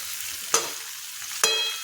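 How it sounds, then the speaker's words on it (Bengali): Cauliflower pieces with turmeric and salt sizzle in a hot pan, a steady hiss punctuated by two sharp scrapes of a spatula stirring, close and without speech. "এখন ফুলকপিগুলো ভালোভাবে ভেজে নেব"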